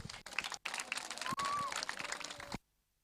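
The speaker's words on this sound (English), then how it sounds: "Give him a round loud of applause." Crowd applause at an outdoor youth soccer festival awards ceremony, a broad wash of clapping and crowd noise lasting about two and a half seconds before cutting to silence.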